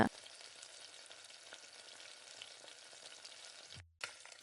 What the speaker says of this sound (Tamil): அதனால் நல்லா அந்த மாதிரி கிளறி கொடுத்துக்கிட்டுருங்க